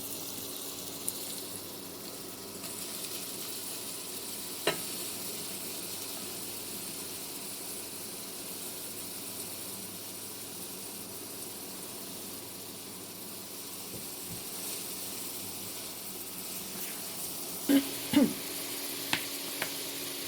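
Shredded cabbage frying in oil in a pan on low heat, a faint continuous sizzle and hiss throughout with a few sharp utensil knocks near the end, no voices.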